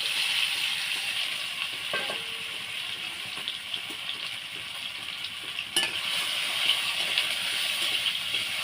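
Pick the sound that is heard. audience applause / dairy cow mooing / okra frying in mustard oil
okra frying in mustard oil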